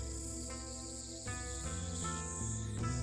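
Cicadas drone in a hot evening scene of the visual novel Steins;Gate, a steady, dense buzz that fills the whole stretch alongside layered tonal background sound.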